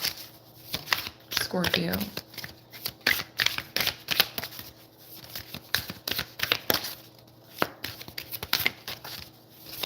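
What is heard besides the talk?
tarot cards being shuffled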